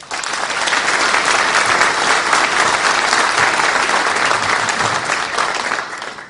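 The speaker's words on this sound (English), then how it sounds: "So those commissioners deserve a round of applause for their staying to it." An audience applauds commissioners at the opening of a government center in Dawsonville, loud dense clapping that swells quickly and holds steady for several seconds, close and full.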